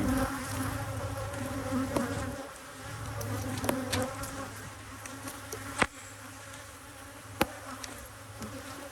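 A thick, continuous drone of honey bees rises from an open hive, steady and close, with a few sharp clicks and knocks and no voices.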